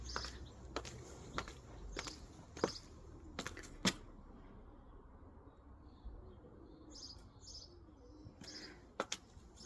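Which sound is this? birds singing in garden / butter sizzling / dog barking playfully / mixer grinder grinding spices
birds singing in garden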